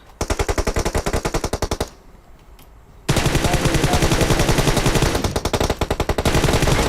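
Rapid automatic gunfire in PUBG Mobile, loud close bursts of evenly spaced shots, a brief pause with a couple of faint clicks, then a long sustained burst continuing to the end.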